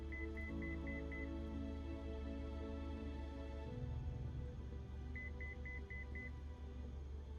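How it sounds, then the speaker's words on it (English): Beeping alert in a flight simulator game, two bursts of five rapid electronic beeps several seconds apart, sounding over a constant low cockpit drone that shifts pitch midway. "Bro, what is that beeping?"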